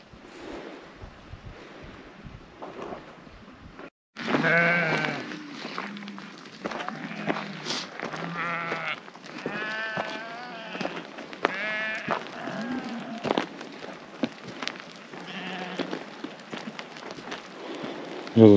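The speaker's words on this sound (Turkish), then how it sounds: "Ve çok zayıf, aşırı zayıf koyunlar var." Very thin, underfed sheep on a migration route bleating again and again close by, the calls overlapping, with shuffling footsteps underneath after a quiet opening.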